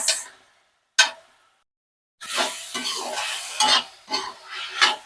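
Spoon stirring chili sauce through veg fried rice in a pan: two sharp isolated clinks, then a steady run of scraping, rustling stir strokes with soft sizzle, close and alone.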